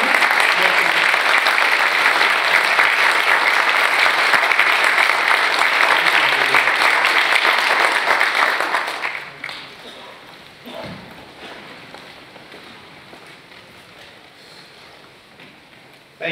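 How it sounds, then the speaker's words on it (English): A large audience applauds for the governor of North Carolina at a highway dedication ceremony, a dense, loud ovation that holds steady for about nine seconds before fading into a quieter room with scattered murmurs. "give a round of applause for our governor of the great state of North Carolina"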